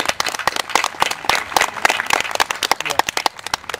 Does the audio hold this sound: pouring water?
no